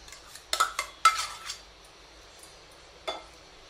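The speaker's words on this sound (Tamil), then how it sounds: "தாளிச்சாச்சு, தாளிச்சு இப்போ வந்து தயிர் சாதத்தில் நம்ம கொட்டிடலாம்." Hot tempering is poured from a pan into curd rice in the kitchen, giving a few quiet metallic clinks and scrapes of utensil on pan, followed by a soft faint sizzle.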